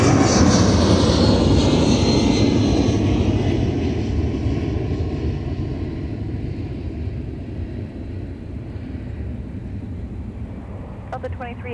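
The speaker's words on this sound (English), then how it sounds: "There goes our Delta 2385 heading out to Tampa, Florida." Delta jet airliner departing MSP airport, heading out to Tampa, Florida: a loud, broad engine roar that slowly fades and recedes over about twelve seconds, with a steady low hum underneath.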